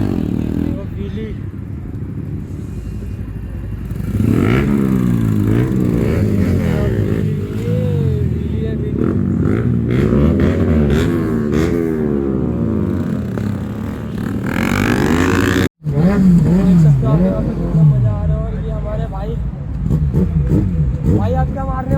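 An R15 motorcycle revs hard during a wheelie attempt on an Indian road, its engine note rising and falling in repeated surges, close and loud, with other traffic engine noise and a person talking over it throughout.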